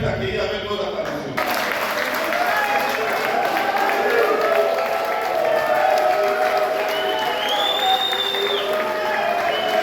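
A crowd at a Labour Day gathering in Kinshasa applauds and cheers to welcome comrades from Bukavu, Goma and Butchu, with dense sustained clapping and voices filling the room after a brief quieter opening.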